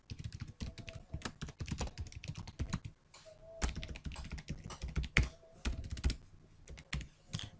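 A name is typed on a computer keyboard in quick, irregular bursts of crisp key clicks and thumps, close and clear, with brief pauses between runs of keystrokes.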